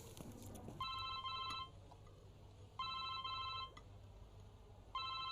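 A phone rings in three repeated bursts of bright trilling electronic tones with short pauses between them, over a quiet room hum.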